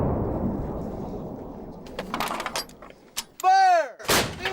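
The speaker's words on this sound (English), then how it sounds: "105mm howitzer launches live ordnance into the side of a Nevada mountain" A 105mm howitzer fires live ordnance into a Nevada mountainside, with a loud booming blast and rolling echoes, then sharp cracks and a whistling, sweeping tone before another heavy report.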